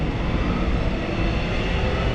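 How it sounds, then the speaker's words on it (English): Train at East Ringwood station, heard as a loud, steady, broadband rumble and roar that holds for the whole stretch with no talk over it. "Probably make out the train there"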